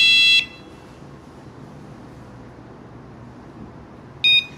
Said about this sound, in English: When you hear a beep